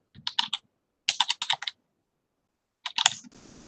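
Typing on a computer keyboard, heard as three separate bursts of quick key clicks with pauses between them, close and clear, followed by a short burst of noise.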